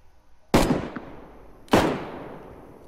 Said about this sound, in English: The shooting, there's more than one.